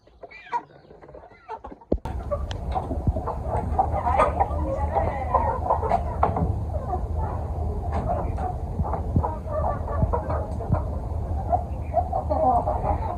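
A flock of tiger and local desi chickens kept together clucks continuously and close by, with a busy mix of overlapping calls and faint rustling after a quieter start.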